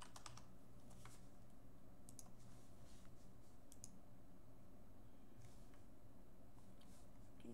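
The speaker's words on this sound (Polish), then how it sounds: "Klikamy download now." Steady rapid clicking from a computer keyboard and mouse at a desk, close and fairly quiet, with irregular light taps running throughout and no talking.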